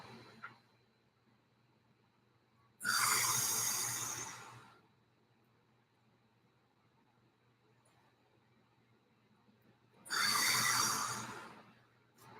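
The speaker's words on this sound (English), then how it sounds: "Hands up, inhale." Two long, deep inhalations during a gentle stretching exercise, close and fairly loud, each lasting about two seconds and separated by quiet room hum.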